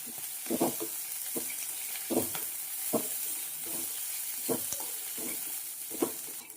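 Chillies, coriander and ginger frying in a pan, a steady sizzle broken by about eight rhythmic scraping strokes of stirring, close and fairly loud with no talk.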